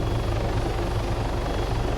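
MD-500 light helicopter hovering in the Arma 3 simulator, a steady, loud rotor and engine drone with a pulsing low throb, continuous and without voices.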